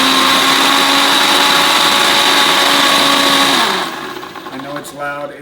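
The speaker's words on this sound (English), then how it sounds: "So we're gonna go turn the blender on" A countertop blender purées red chiles, a loud, steady high-pitched whine for nearly four seconds before winding down abruptly, followed by quieter handling sounds.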